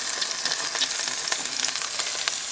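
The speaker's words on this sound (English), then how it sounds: "Okay, I gotta add the other greens." Wild greens hit a hot pan beside chicken of the woods mushroom, giving a loud, dense, continuous sizzle and crackle close up with no talking.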